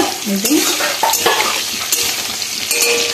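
Hilsa fish fat fries in hot oil with a loud, continuous sizzle, and a utensil stirring it scrapes and clinks close by.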